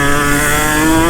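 A KTM 150 SX two-stroke dirt bike engine holds a loud, steady high-pitched drone close by, revving continuously without a break.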